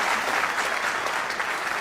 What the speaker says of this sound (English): Let us give another big round of applause to our beloved true mother, Dr. Hak Ja-han Moon, for her precious message.